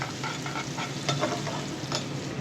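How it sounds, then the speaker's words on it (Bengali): Garlic and onion fry in a pan with panch phoron and cumin, giving a steady close sizzle broken by a few sharp stirring scrapes and clinks, with no talk. "রসুন আর পেঁয়াজটা ভেজে নেব, আর সাথে দিয়ে দিব পাঁচফোড়ন আর জিরে ফাঁকি"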